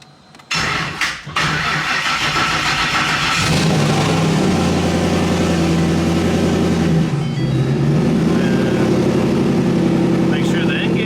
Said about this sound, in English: I wanted to start the car for you.